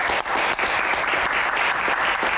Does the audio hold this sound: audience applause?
yes